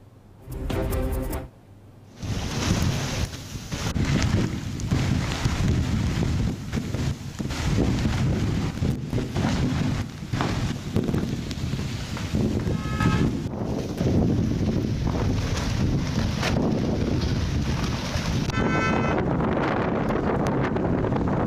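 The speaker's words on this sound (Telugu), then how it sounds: "హైదరాబాద్ లో కుండపోత వర్షం కురుస్తోంది" Torrential rain pours in Hyderabad as a loud continuous roar with gusty, wind-buffeted noise across the microphone, sustained throughout after a brief opening burst, with no speech.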